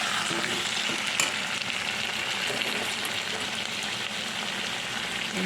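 Vegetables frying in a pan for a Bengali kalmi shak chorchori, a steady dense hiss of oil sizzling close and constant throughout, with no talk over it.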